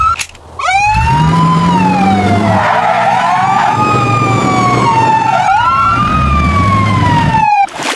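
Emergency vehicle sirens wail loud and close, their rising and falling tones sweeping continuously over an engine rumble for several seconds.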